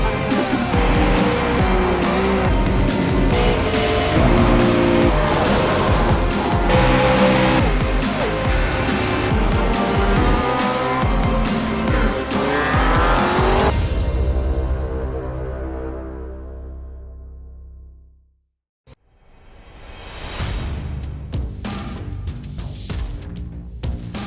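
Street stock race cars at Five Flags Speedway roar close by at full throttle, then the engine noise fades quickly into the distance and dies away, before another car's growl rises again.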